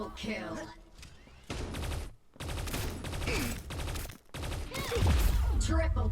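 Rapid gunfire bursts in the T3 Arena video game, coming in quick clusters broken by short gaps and mixed with other game effects.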